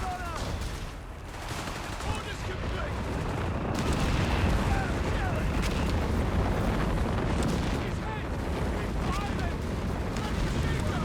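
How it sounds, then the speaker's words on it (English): Walking Stuka artillery barrage in the WWII strategy game Company of Heroes 3, a steady roll of rumbling explosions and crackling gunfire throughout, with faint voices underneath. "these last like 3 or so walking Stuka barrages haven't been that impressive"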